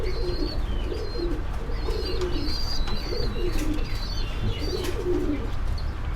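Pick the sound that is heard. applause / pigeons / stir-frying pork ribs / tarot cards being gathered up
pigeons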